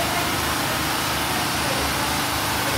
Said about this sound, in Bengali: কারেন্ট চলে গেছে, যাই হোক জেনারেটরের ব্যবস্থা আছে আমাদের।